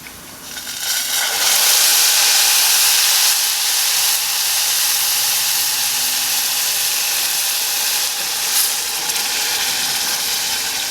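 Tomato hits hot oil with frying rice for Mexican red rice, setting off a loud, broad sizzling hiss that flares up quickly and then holds steady, close by, with no talking.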